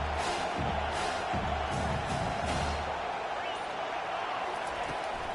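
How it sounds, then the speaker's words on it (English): A college football video game crowd roars for the defense on third down, a loud, continuous stadium din that swells and holds for the whole stretch, with voices mixed into the noise. "Decibels rising as the crowd gets behind this defense on third down."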